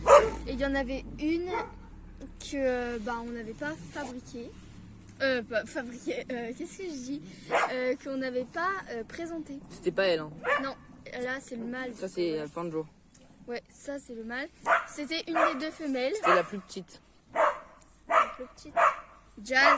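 Dogs, one a neighbour's and one belonging to the household, bark and yip in intermittent bursts close by and loudly, mixed in with continuous conversation between two people.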